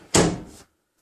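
An interior house door swings shut with a single solid thud during a home inspection, close and fairly loud, followed by a quick fade into silence.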